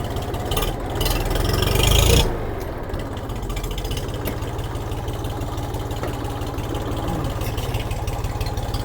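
A Forte RD-244 mini tractor with its diesel engine running. A brief rev swells and then drops back to a steady, chugging low rumble as the tractor pulls away. The sound is close and continuous, with no speech.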